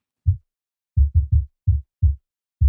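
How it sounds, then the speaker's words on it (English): A breakbeat kick drum thumps alone in music production, a handful of short, deep, punchy hits in an uneven syncopated rhythm separated by dead silence. "we've already got a kick, which is doing most of the work of the bottom end there"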